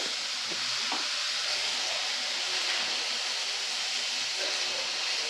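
Turmeric, cumin and coriander powder frying in a pan for crab curry, a steady loud sizzle with close stirring scrapes throughout, no talk.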